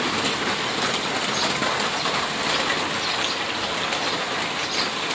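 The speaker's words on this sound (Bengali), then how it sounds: "টিপ টিপ টিপ টিপ পড়েই যাচ্ছে, জোরে হচ্ছে না, কিন্তু টিনের শব্দ হচ্ছে, টিনের মধ্যে বৃষ্টি পড়ছে।" Rain falls on a tin roof in cold weather, a dense, steady patter that holds at an even level throughout, with no voices.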